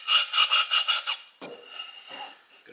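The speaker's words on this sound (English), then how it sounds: "let me see if I can't deburr this bottom here a little bit" Short, rhythmic rasping strokes as a chisel's back is deburred on a Hongdui HD29 sharpening stone, about six quick rubs close by, then a pause and a few softer scrapes.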